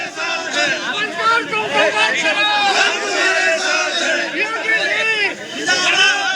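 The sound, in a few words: protest crowd chanting slogans in support of Alankar Agnihotri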